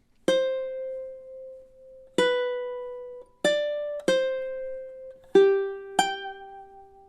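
Ukulele plucking a melody from The Legend of Zelda, six clear single notes spaced unevenly, each ringing and fading, played alone and close with no talking.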